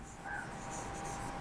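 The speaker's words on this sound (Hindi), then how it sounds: "तो हम यहाँ पे लिखेंगे अत्तामा।" Marker or chalk strokes on a board during an Arabic grammar lesson, a short steady scratching run lasting just over a second, quiet and close, with no talking.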